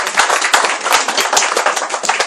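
A church congregation claps together in a quick, steady rhythm to acclaim the Lord, the sharp, loud claps close and continuous with no talking over them.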